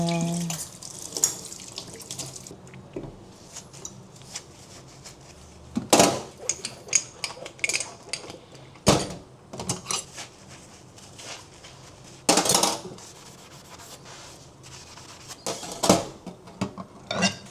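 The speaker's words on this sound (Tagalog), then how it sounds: "pinggan." Dishes are washed at a sink in a condo under a running tap, with water splashing in bursts and plates and cutlery clinking intermittently nearby.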